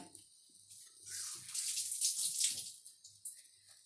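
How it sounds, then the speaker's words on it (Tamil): Water is poured from a tumbler onto fried rice grains in a pressure cooker, a brief splashing gush that swells in the middle and tapers off, close and quiet, with light clinks before and after. "1 டம்ளர் அரிசினா 2 டம்ளர் தண்ணி ஊற்றிடுங்க"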